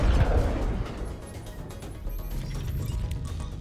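A missile strike in the space combat game Breachway: a loud crashing impact at the start, then a rumbling, crackling decay that lingers steadily underneath.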